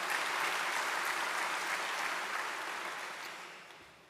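An audience applauds at a talk on public lands and clean energy, a dense wash of clapping that starts full and gradually fades away over a few seconds, with no voices over it.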